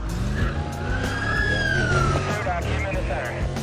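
A police car siren in the racing game Need for Speed Undercover wails with a rising and falling tone over a steady rumble of car engines and road noise.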